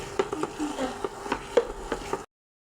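Potato and tomato bhorta mashed with the bottom of a glass in a pan on a low flame: a quick run of soft, regular thuds and squishes, close and fairly loud.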